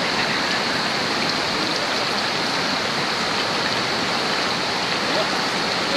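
Heavy rain pours steadily alongside a rushing stream swollen by the downpour, a continuous loud hiss of water with no break.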